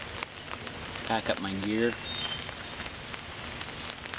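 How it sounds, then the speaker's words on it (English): Rain patters steadily on a tarp over a hammock campsite in the woods, a soft continuous pitter-patter under a man's brief spoken words. "see if the rain's gonna let up a little bit, then take down my tarp"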